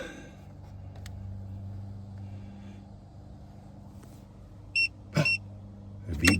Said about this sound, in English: It beep beeped